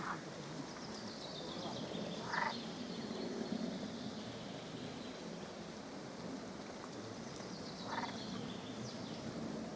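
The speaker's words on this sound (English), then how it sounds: "I really heard that frogs were quacking." Frogs croaking in Białowieża Forest, a few brief rasping calls standing out over a steady wash of rain pattering on surfaces, steady and moderately distant with no voices.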